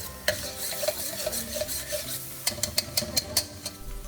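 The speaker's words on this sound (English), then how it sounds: "you can put your garlic, saute it until brown" Garlic sautéing in a pan of melted butter and olive oil, a steady close sizzle broken by repeated scraping stirs and sharp clicks of a utensil against the pan, with no talking.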